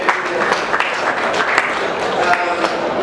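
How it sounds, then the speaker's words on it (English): Applause from an audience at a print industry expo in Nigeria, a sustained patter of clapping with a voice speaking over it. "Let's give her a round of applause one more time"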